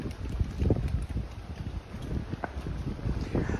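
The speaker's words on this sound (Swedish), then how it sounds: "Oj, nu blåser det till lite här." Steady wind gusts buffet the microphone outdoors on a beach, a continuous low rumbling roar that swells and eases, with no voices.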